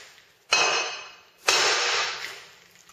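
A warm steel piece is set onto a freshly welded steel anvil base with two sharp metallic clanks about a second apart, each ringing out and fading; the sound is close and loud, and nobody speaks.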